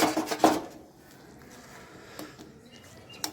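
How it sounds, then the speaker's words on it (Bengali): A metal lid comes off a pot of boiling water with basak leaves, a quick rattling clatter up close, then quieter simmering with a few faint clicks. "আমি এখন ঢাকাটা খুলিয়ে দেখাচ্ছি।"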